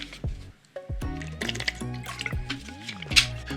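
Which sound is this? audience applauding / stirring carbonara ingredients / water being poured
water being poured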